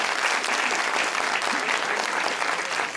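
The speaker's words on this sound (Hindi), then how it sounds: "तालियां होनी चाहिए भाई" A studio audience at an Eid special talk show breaks into loud, continuous clapping, a thick, bright patter that stays level with no talking over it.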